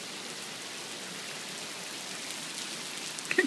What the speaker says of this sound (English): Yeah. It is pouring.